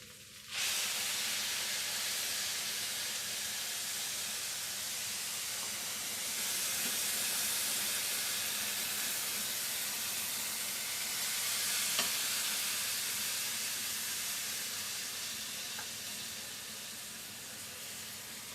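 Broth poured into a hot vegetarian paella pan sets off a steady, loud sizzle and hiss that begins abruptly and holds for well over fifteen seconds, with faint pan clinks along the way.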